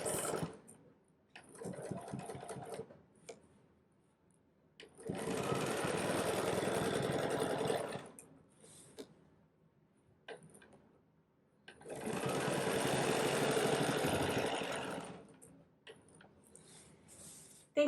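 A sewing machine stitches straight quilting lines guided by rulers, running in two distinct bursts of rapid, even whirring separated by quiet pauses with light handling sounds.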